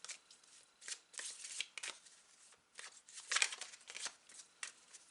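Tarot cards shuffled by hand: quiet, close riffling bursts and soft slaps in an uneven rhythm, with no talking.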